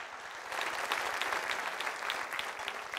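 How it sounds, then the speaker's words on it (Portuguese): A church congregation breaks into applause during a sermon, a close, dense patter of many hands rising quickly and holding steady. "Você pode dar um aplauso para isso,"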